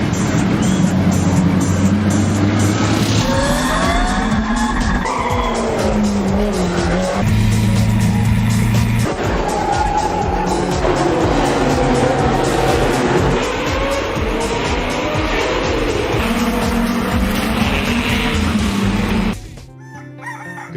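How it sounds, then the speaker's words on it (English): Vintage racing cars at the Monaco Historic Grand Prix roar loudly and continuously, engine pitch rising and falling as they rev, before the noise drops away abruptly near the end. "when they start up those things, the noise is just extreme"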